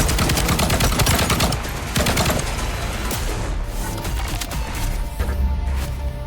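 Rapid gunfire from the video game VOID/BREAKER as a boss is shot down, dense bursts of shots running continuously and loud throughout with game music and effects mixed in.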